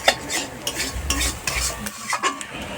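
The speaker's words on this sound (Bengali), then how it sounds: "এটাকে ভালো করে আমাদের নেড়ে ভালো করে কষিয়ে নিতে হবে" Ghugni masala with a splash of water being stirred and fried in a pan, a close, steady sizzle broken by repeated scraping strokes of a spoon against the pan.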